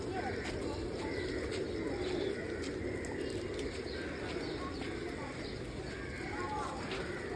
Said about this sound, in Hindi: देखिए यहाँ पे कबूतर है।